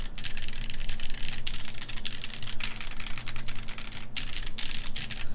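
A custom-built TGR 910 mechanical keyboard being typed on rapidly, dense continuous clacking keystrokes close up with a few brief pauses and no talk.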